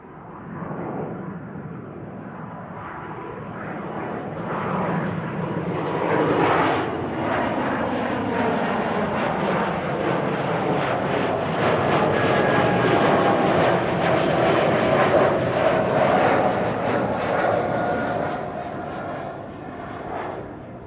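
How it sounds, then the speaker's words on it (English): An Embraer E2 jet airliner passes at Amsterdam Schiphol Airport, a loud, sustained engine roar that swells to a peak around the middle and slowly fades, with faint voices underneath. "Another E2 Embraer."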